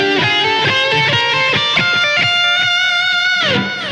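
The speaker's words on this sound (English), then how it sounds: "The next phrase is an ascending scale." Electric guitar climbs a D Aeolian scale phrase from a guitar solo, a steady run of bright sustained notes with a slide near the end, loud and unaccompanied by speech.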